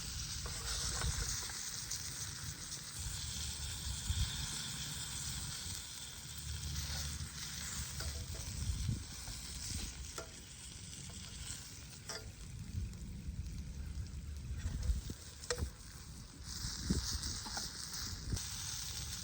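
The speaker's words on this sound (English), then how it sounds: "now you're just kind of pan frying it to get that crispy outer layer on there" Squirrel meat, already parboiled, pan frying in hot grease over a camp fire, a steady crackling sizzle with occasional louder pops and the scrape of stirring running throughout.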